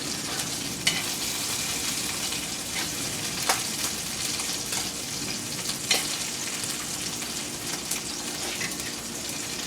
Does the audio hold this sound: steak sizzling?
yes